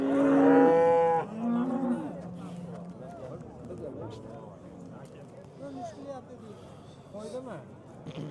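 Cattle at a busy Andijan livestock market moo loudly and close at the start, a long drawn low call followed by a shorter one, then murmuring crowd voices and market chatter carry on underneath.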